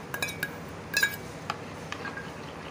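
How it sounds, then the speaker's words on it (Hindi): Yogurt with chillies and coriander being whisked in a dish, giving a few light, scattered clinks and taps against the dish, quiet and close, with no talking. "दही को फेंट लेंगे डिश की मदद से अच्छी तरह।"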